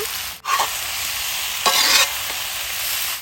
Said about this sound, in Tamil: இந்த சிக்கனையும் இப்போ இதிலே போட்டுடலாம். இப்போ அப்படியே நல்லா கிளறி கொடுங்க.